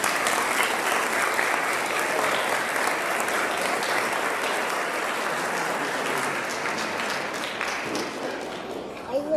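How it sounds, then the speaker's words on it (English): A large crowd at an 8th grade stepping-up ceremony gives a full round of applause for the school superintendent, dense steady clapping that holds for several seconds and then tapers slightly. "You can give him a full round of applause."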